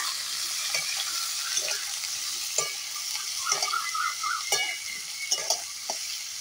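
Cut potatoes frying in hot oil while being stirred, a bright continuous sizzle punctuated by several sharp spatula scrapes and clinks against the pan, close up, with no voices.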